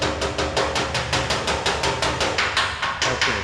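Hammer and dolly striking a car body panel during auto body repair, a rapid even series of about sixteen sharp metallic taps, close and loud.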